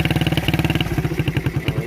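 A Suzuki Satria FU motorcycle idles with a dB killer fitted in its exhaust. The engine gives a steady, rapid, low thumping pulse, loud and close, with no voices.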